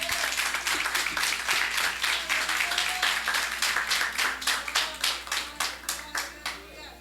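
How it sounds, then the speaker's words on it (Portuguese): Congregation at a Sunday church service clapping hands in a steady, fast rhythm, loud and close, with the claps slowing and thinning toward the end; no talk over it. "Aplauda o Senhor em nome de Jesus."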